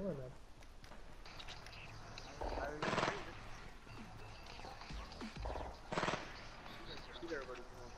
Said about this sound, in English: Who are you shooting at, Beast Mode?